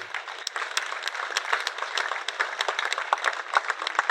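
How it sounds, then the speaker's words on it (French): An audience in the Désiré Bonogo popular theatre applauds a dignitary, crisp clapping from many hands at a steady rate, fairly close and sustained throughout, slightly thin and lacking bass. "Je voudrais qu'on applaudisse très fort pour cette personnalité"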